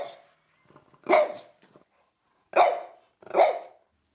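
A pet dog barks three times in short, loud, separate bursts with quiet gaps between them, with no voices heard.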